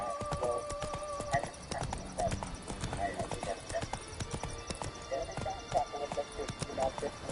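Steady galloping hoofbeats from a horse in The Witcher 3 video game drum on without pause, accompanied by a few snorts and whinnies, with game music and talk running underneath.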